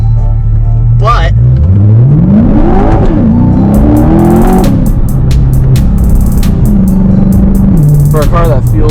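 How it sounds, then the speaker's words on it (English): A Chevrolet Corvette C8 engine revs hard, pitch sweeping up and down through several throttle blips, loud and close with a growling exhaust note. "For a car that feels and sounds like that."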